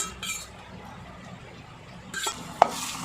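Beaten egg frying in a pan for a leftover-rice dish, a low steady sizzle with occasional stirring, then a brief louder scrape and a sharp clink of utensil on metal near the end.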